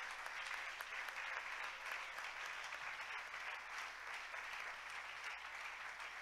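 Congregation in a church applauding together in steady, dense clapping that fills the space for several seconds, with faint voices mixed underneath.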